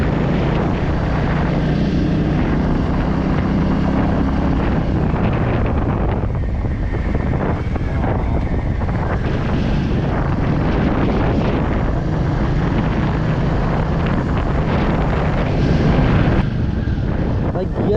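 A steady, loud rush of engine drone and wind buffeting on a Royal Enfield motorcycle ride, continuous throughout.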